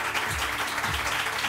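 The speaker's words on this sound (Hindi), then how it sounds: "तो तालियां बजा के बताइए कि ये सब कुछ कर सकती है।" An audience in a morning television studio claps steadily at the host's urging, a close, even wash of hand claps with no pauses.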